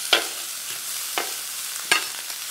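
Onion frying in a pan with seared meat, a steady close sizzle punctuated by three sharp stirring scrapes spaced about a second apart.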